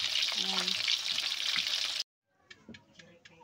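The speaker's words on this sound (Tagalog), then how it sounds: "Crisping tilapia" Tilapia frying in a pan sizzles with a steady loud hiss for about two seconds, then cuts off, leaving a few faint crackles and clicks.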